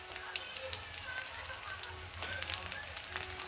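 Green chillies sizzle and crackle in hot oil with onion in a pan for upma, a steady frying hiss with small pops, while someone talks over it.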